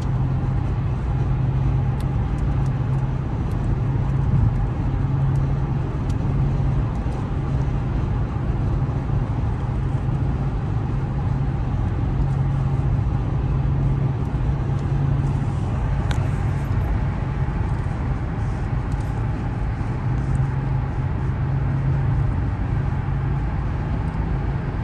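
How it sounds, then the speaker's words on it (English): Steady low road rumble from inside a car on a city test drive over bumpy pavement, a continuous muted drone with faint occasional thumps and no clattering, no talking. "You can hear how quiet this car is over the bumps in the road."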